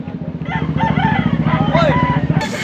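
A Buyugon rooster of the Lemon84 line crows loudly and close in one long call over a rapid low engine-like rumble, ending with a sudden hiss.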